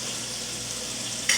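Meat braising with onions and garlic in a pan, a steady close sizzle and hiss throughout, with a brief sharper spit near the end; no voices.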